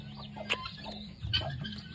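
A chicken in a coop gives short, soft clucks, close by, with faint rustling around it and no talking.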